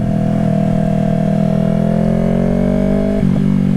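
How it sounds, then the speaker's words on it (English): A Yamaha R3 motorcycle with an aftermarket M4 slip-on exhaust runs loud and steady with a deep, throaty exhaust drone, the pitch holding then dipping briefly near the end. "I definitely had to go get a aftermarket exhaust. I don't know if y'all can hear it."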